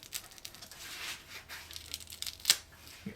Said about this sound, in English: this foam is very strong. I can tear it